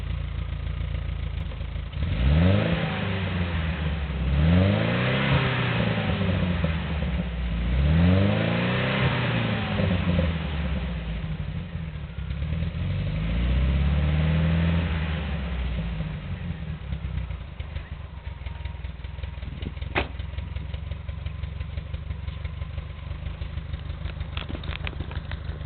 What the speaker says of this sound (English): it's a solid lifter engine, overhead camshaft, so they're never dead quiet